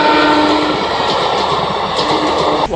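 The Simhadri Express passes close by, loud and continuous, its sustained horn blaring over the roar and wheel clatter, which cuts off abruptly at the end.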